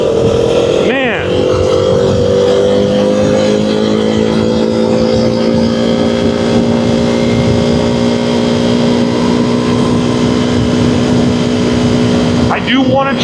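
A Duke 390 motorcycle engine hums at steady revs while riding, with one quick blip near the start and another near the end, loud and continuous with wind noise.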